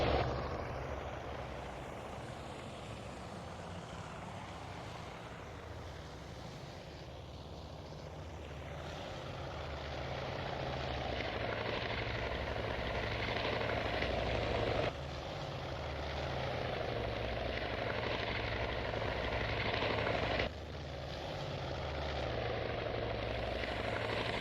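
Aircraft engines hum in the naval warfare game Task Force Admiral, a low continuous drone that slowly swells and shifts with a couple of abrupt cuts.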